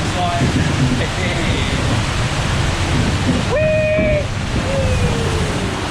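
Water rushes and sprays steadily over riders on the Splash Mountain log flume at Magic Kingdom, a loud broadband wash with brief tonal squeals near the end.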